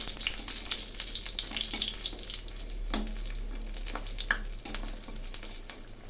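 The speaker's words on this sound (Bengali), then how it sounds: "গরম তেলে কয়েকটি বড়ি ভেজে নিতে হবে" Lentil dumplings (bori) fry in hot oil for a mixed-vegetable curry, giving a steady close sizzle with crackling bursts and a few sharper pops, and no voices.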